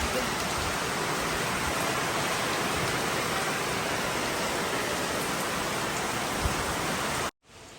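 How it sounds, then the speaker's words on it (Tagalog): A continuous heavy rush of typhoon floodwater pouring steadily into a building, cutting off abruptly near the end. "Ayan na guys, ang tubig. Pumapasok na ang tubig."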